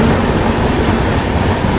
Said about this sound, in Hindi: और ये आ गई दक्षिण एक्सप्रेस,